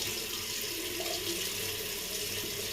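Steady tap water running into a sink while the face is wetted before a shave, a continuous close hiss with no talk.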